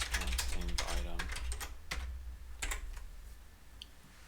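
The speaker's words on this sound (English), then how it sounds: "I've never heard such an annoying keyboard" A computer keyboard clatters with rapid, loud, close keystrokes in uneven bursts, slowing and thinning toward the end.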